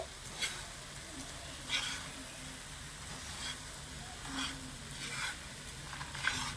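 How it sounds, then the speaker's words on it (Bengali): Milk powder gaja pieces stirred through thickened sugar syrup in a pan, with faint steady sizzling and soft scraping strokes returning every second or so, no voices. "সমানে নেড়ে ছেড়ে এভাবে করে একটু মিশিয়ে নিতে হবে"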